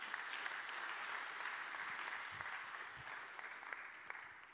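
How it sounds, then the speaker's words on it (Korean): A church youth event audience applauds for a questioner, an even, sustained crowd clapping that fades slightly toward the end. "우리 질문해 주신 분께 박수 한번 좀 드리도록 하겠습니다"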